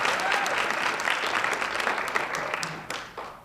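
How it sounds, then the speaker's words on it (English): A keynote audience at a 2014 New Jersey Black History celebration breaks into applause, a brief burst of dense clapping heard alone that begins to thin toward the end. "I think they do deserve a round of applause right there."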